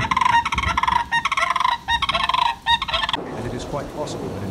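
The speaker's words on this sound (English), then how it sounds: "we found some eerie calls that sandhill cranes make like this one" Loud, rattling sandhill crane calls repeat in a rapid, rolling series of bursts, then give way to a quieter, distant background of softer calls.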